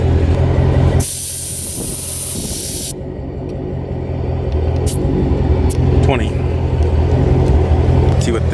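Air hisses steadily out of a drag radial tire on a supercharged Dodge Charger Scat Pack as the pressure is let down from about 25 psi, a loud close burst lasting around two seconds, followed by background rumble and faint talk.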